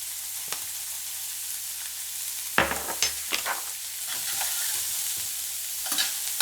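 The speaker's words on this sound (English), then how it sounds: "It says lightly saute, so I'm keeping that heat at a medium-low." Ingredients lightly sauteing in sesame oil over medium-low heat, a constant sizzle broken by sharp spoon-stirring knocks and scrapes in the middle and toward the end.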